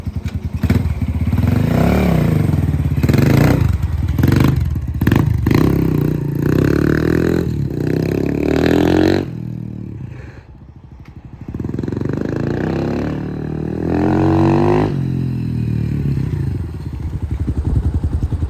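A Barton NXT 150 dirt bike engine runs loud and close, revving with rough, throaty bursts, dipping briefly to a quieter idle before rising again.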